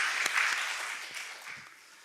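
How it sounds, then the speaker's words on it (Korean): A short burst of clapping from a church congregation, fairly dense at first and thinning out over two seconds, heard at a moderate distance indoors. "우리 감사의 박수 한번 쳐주겠습니까?"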